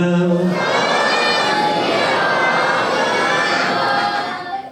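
A congregation answers a Sikh jaikara call with a sustained, massed shout of many voices, loud and reverberant, holding steady for several seconds before fading at the end.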